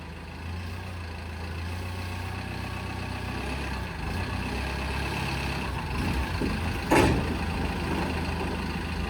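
A restored Diamond T tank transporter truck rumbles steadily in first gear with a low, continuous engine drone, close by and unbroken, with one brief sharp burst partway through.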